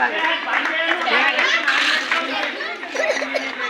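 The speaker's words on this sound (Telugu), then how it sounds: "గట్టిగా చప్పట్లు పిల్లలకి చప్పట్లు గట్టిగా" Children clapping at a Christmas celebration in a primary school courtyard: a dense, continuous patter of many small hands, with an adult voice calling out and a crowd chattering throughout.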